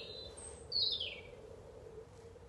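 One bird gives a single high chirp, faint and somewhat distant, over a steady low hum and hiss.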